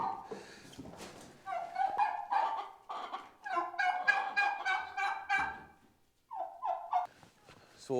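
Poultry let out of a coop in the morning call in bursts of loud, close cackling and gobbling, with a brief pause before a final flurry and a faint dog bark in the mix.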